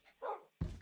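A dog barks twice in the video game From The Fog, the first bark softer and the second louder and closer.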